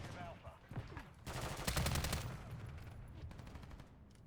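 Rapid bursts of gunfire from a first-person shooter in Lethal Company, a dense volley of shots in the middle with scattered single shots before and after, fairly loud and close.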